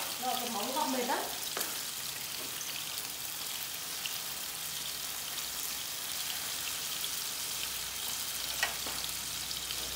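Tofu frying in a pan gives a steady, close sizzling crackle with faint popping throughout, and a brief voice murmurs near the start.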